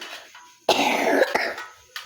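Someone with a cough and fever coughs while working with turmeric: one long, harsh, close burst followed by two shorter coughs, with no talk.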